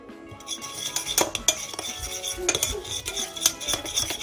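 A utensil stirs paprika and salt seasoning in a bowl, producing close, busy scraping and clinking against the dish in irregular bursts with no talk.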